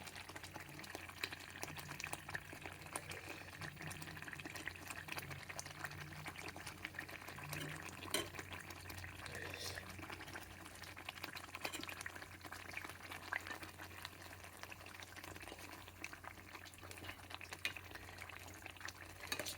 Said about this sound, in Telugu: ఇలా ఈ గ్రేవీలో ఉడకాలి